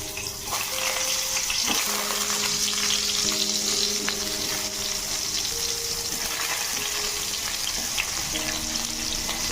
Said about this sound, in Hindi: एबे तेल गरम हो गलानी आमे ताको आलू भाजी देबा।